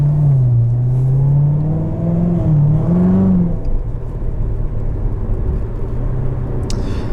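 A 2019 Chevrolet Corvette Z06 convertible with automatic transmission accelerates on cold tires, its engine note rising and shifting in a loud, close run over a few seconds before settling into a steadier rumble.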